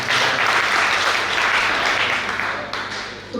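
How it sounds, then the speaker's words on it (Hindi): An audience at a talk in Ujjain applauds, a dense, loud wash of many hands clapping that holds steady for a few seconds and tapers slightly at the close. "ताली बजाते हैं।"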